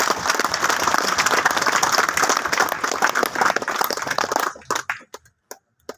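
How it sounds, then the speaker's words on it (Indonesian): A church congregation at a Catholic mission station in Pilimo breaks into loud, dense applause for about four and a half seconds, then thins to a few scattered claps before falling silent. "Tepuk tangan."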